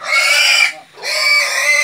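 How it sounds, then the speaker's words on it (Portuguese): Pigs squeal loudly and shrilly during vaccination on a farm, two long piercing cries separated by a brief pause, close and unaccompanied by talk. "Lodo do Jiqui e João José estão vacinando aqui os porcos."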